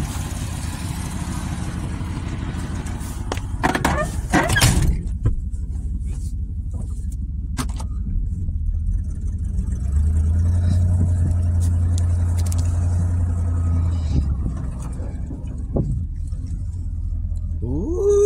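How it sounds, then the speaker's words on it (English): A car engine running rough on about three cylinders idles and revs unevenly with a low, rough rumble, joined by clanks and knocks, fairly close and without speech. "She's running on about three cylinders."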